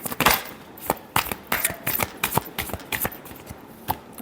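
A deck of tarot cards is shuffled by hand, a run of quick papery riffles and slaps in an uneven rhythm, close and fairly crisp with no talking.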